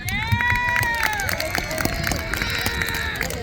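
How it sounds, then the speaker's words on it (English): A school crowd at an outdoor groundbreaking ceremony for a new turf athletic field claps and cheers, with scattered claps under rising, wavering shouts and whoops from several voices. "I'm sure you could give a big round of applause for your summer"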